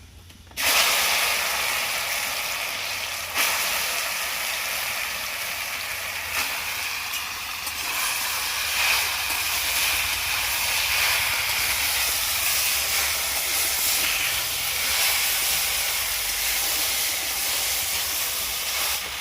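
Elephant apple pieces drop into hot mustard oil with five-spice seeds, setting off a sudden loud sizzle that holds as a steady hiss and crackle for many seconds with a brief flare partway through.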